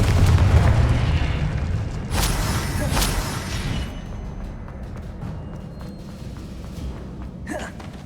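In Hogwarts Legacy, the Confringo fire spell lands as a heavy, booming explosion with a deep rumble that fades slowly, followed by crackling debris and a short whoosh.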